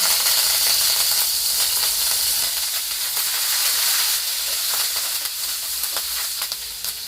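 Curry leaves crackling in hot oil in a pan for Dindigul Thalappakatti-style seeraga samba dum biryani, a steady loud sizzle and hiss running throughout with occasional sharper pops toward the end, close and with no talk.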